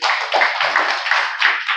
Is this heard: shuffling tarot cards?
no